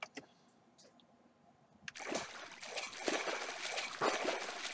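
Trickling water from a simple animated water effect in a video game, starting faint and then swelling into a steady, splashy stream that runs continuously.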